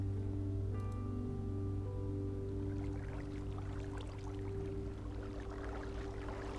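Flowing water running outside a house in a modded Minecraft world, a steady rushing and trickling wash that builds over a low constant hum and stays fairly loud throughout.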